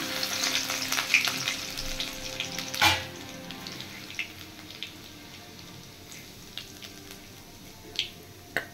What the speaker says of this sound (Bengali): তেল গরম হয়ে গেছে। এবার আমি দিয়ে দিচ্ছি সামান্য কুচিয়ে রাখা রসুন।